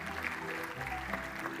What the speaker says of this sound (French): On peut les applaudir aussi et merci à eux.